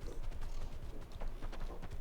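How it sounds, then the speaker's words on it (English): A horse's hooves clip-clop as it is ridden through a canyon area in the video game Palia, a steady quick trot of soft thuds, fairly faint and evenly paced. "The horse is really fun to ride around on."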